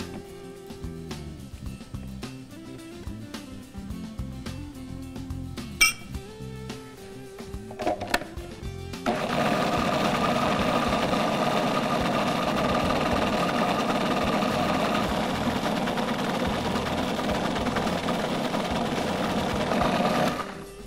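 A food processor blends black bean dip, starting after quieter kitchen handling and clunks and then running as a steady, loud motor whir that continues to the end without talk.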